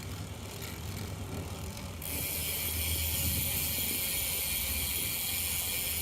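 A bicycle with new crank arms and a new chain ring is pedaled, giving a soft continuous mechanical whirr and chain ratcheting that grows louder partway through, with no talking.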